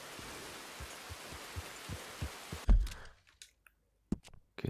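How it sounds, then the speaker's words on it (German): Steady rain patter from Red Dead Redemption 2 fills the first few seconds with soft low thumps, then cuts to near silence broken by a few scattered clicks and drops. "Und es regnet, oder?"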